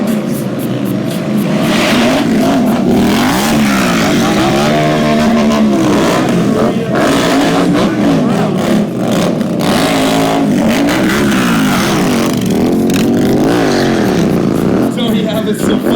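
Indian Scout motorcycles at a Sturgis Rally thrill show roar past close by in repeated revving passes, engine pitch rising and falling with each pass, under a crowd and an announcer's voice.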